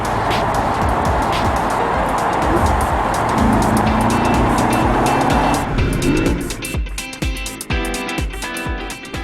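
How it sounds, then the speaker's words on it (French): A 4.2-litre V8 in an Audi RS4 roars hard under acceleration, a loud, continuous metallic engine note that climbs through the revs, then breaks into sharper gear-shift bursts and fluctuating throttle near the end. "Dans un timbre rageur et métallique, le V8 hurlant assène une accélération tout aussi exponentielle."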